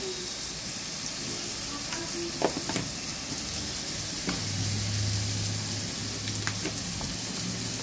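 Dried chillies and turmeric sizzle in hot oil for mutton biryani, a steady soft crackle broken by occasional sharper pops and brief stirring clatter, heard close with no talking.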